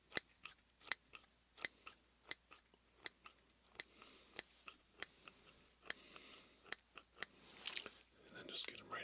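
Crisp scissors snips repeat at a steady pace, about fifteen sharp cuts close up, with faint rustling and a soft voice in the background.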